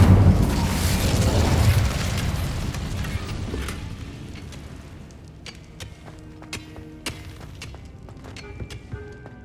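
A fire spell cast in the Hogwarts Legacy video game erupts as a loud, booming whoosh that fades over several seconds. Scattered sharp pops and metallic clinks ring out afterward over a low rumble.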